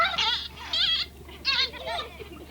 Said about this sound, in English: All the sounds you'll ever hear coming from a dolphin comes from that blowhole on the back of the head.